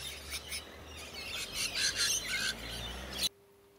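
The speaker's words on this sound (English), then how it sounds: "this is some Australian lorikeets that I happened to walk past" Native Australian lorikeets feeding in a tree, a busy cluster of high, shrill chirps and squawks at close to moderate range over steady outdoor background noise, cutting off abruptly near the end.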